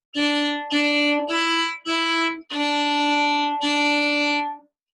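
Six bowed notes on a string instrument, each sustained with a clean, strong tone and short gaps between strokes, played alone.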